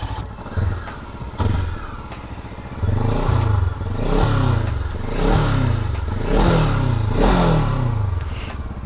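A Macbor XR5 510 motorcycle runs nearby, its engine loud and steady, swelling through a series of smooth revs and easing back between them.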